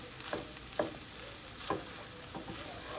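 Simmering meat filling for empanadas being stirred in a pan, faint low sizzle with four soft, scraping strokes of a spoon spaced through the quiet cooking sound.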